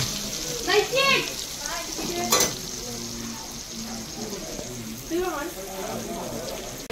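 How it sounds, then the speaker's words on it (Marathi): Pomfret fish frying on a flat tawa griddle at a roadside dhaba, a continuous sizzle heard under the voices of people talking nearby. "पापलेट तवा फ्राय."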